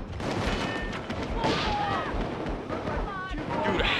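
Gunfire in Payday 2 crackles in dense overlapping bursts throughout, loud and close, with voices shouting faintly under the shooting.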